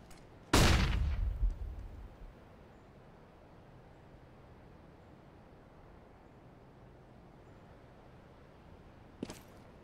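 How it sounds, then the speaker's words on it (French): A CS:GO flashbang bursts with one loud, sharp bang that rings and fades over a couple of seconds, then a low steady hum of game ambience, with a small faint click near the end. "Throwing flashbang."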